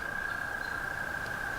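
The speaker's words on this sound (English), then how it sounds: "I think that sound is tree frogs." Tree frogs call steadily at night near a hiking trail, a continuous high-pitched trilling chorus holding one even tone throughout, moderately distant, with a faint chirp or two layered over it and no talking.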